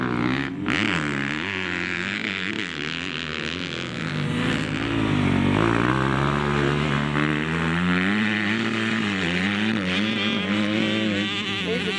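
A motocross bike engine screams steadily at high revs near its rev limiter, a dense, continuous buzzing drone that barely wavers over the whole stretch, loud and close.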